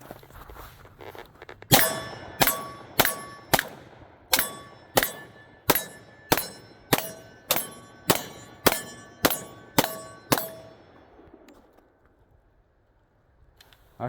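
Fourteen sharp metallic shots from a souped-up SIG XTen Comp 10mm pistol with a compensated slide ring out one after another at an even, quick pace, each with a short ringing tail, then fall silent.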